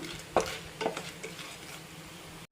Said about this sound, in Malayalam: അതും ചെറുതായിട്ടൊന്ന് നെയ്യിൽ കിടന്ന് ഒന്ന് ചൂടായി വന്നാൽ മതി